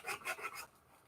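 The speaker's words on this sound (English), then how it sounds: "You just take your sandpaper and just sand it down till it's all even." Sandpaper rasping across the edge of a graham cracker box cover, three or four quick close strokes in a steady rhythm that trail off into quiet.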